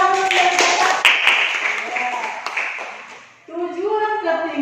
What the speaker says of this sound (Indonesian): Sekali lagi tepuk tangan dulu Gede Eka.